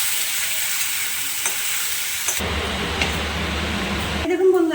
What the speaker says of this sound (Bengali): এরকম পেঁয়াজ দিয়ে ফোড়নের সাথে পেঁয়াজটা লাল লাল করে ভেজে নেব